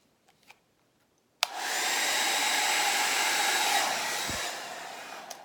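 A hair dryer switches on after a few faint taps and blows a steady, close, breathy roar across acrylic paint in a Dutch pour, holding continuously for several seconds.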